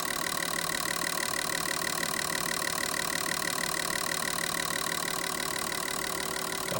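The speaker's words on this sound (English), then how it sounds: "All set up for an idle pulse." GM L67 fuel injectors pulse at idle on a flow test bench, giving a fast, even mechanical ticking buzz that holds steady throughout at moderate level, with no voices.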